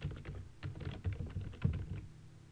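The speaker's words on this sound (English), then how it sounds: "Type in our domain." Quick, steady clicking of keys on a computer keyboard as a domain name is entered, close and fairly quiet, with no talking over it.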